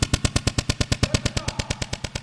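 Rapid automatic gunfire in a comedic film scene, about twenty evenly spaced sharp shots in a steady, fast rhythm, loud and close.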